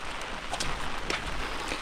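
Steady patter of rain falling, a soft continuous hiss with scattered drops, fairly close and moderately loud, with no voices.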